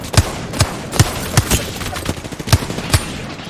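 Video game gunfire: a steady run of sharp, evenly spaced shots, about seven punchy reports over a few seconds, loud and close with nothing else over them.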